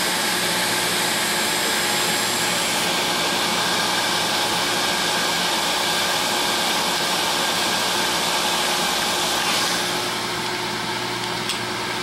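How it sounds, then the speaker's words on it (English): Rubber drive wheel on a Tormach PSG6 being dressed with a lathe tool, giving a steady, loud broadband whir and hiss that holds unbroken throughout with no voices. "that is how we dress the rubber wheel"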